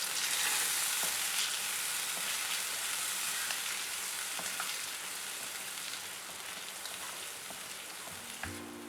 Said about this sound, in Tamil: எண்ணெய் ஓரளவுக்கு சூடாகிட்டப்புறம் இந்த மிக்ஸ்டர் ஆட் பண்ணிடலாம்